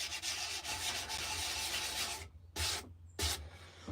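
Steady close rubbing of a sanding block across a carved wooden spoon, a continuous scratchy rasp that breaks into two short strokes near the end.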